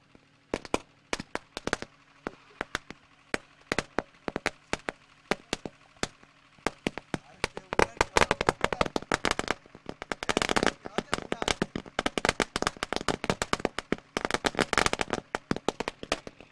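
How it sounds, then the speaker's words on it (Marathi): Firecrackers and fireworks burst to welcome guests at a cricket tournament, the Kurunkar Chashak 2024: a long, rapid string of sharp cracks and pops, sparse at first and then dense and loud, with a commentator's voice under the bangs. "पाहुण्यांचं स्वागत फटाक्यांच्या आवाजाने होताना आपल्याला पाहायला मिळालं."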